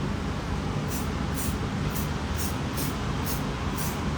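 Hair spray hisses from a can onto styled hair in seven short, evenly spaced bursts about half a second apart, sounding crisp and close over a steady background hum.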